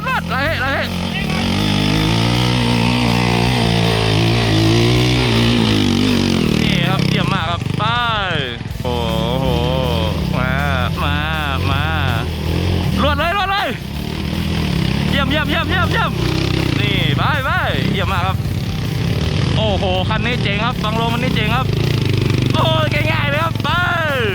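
A motorbike engine revs hard on a hill climb during a rural trip, droning loud and near with rising and falling pitch, while several people talk and shout excitedly over it.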